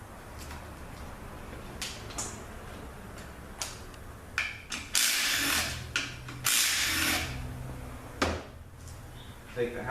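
A ratchet clicks in short bursts while 12mm bolts come out of the idle gear housing during a B7XA transmission teardown, with metallic clanks and a few louder hissing bursts, close and intermittent.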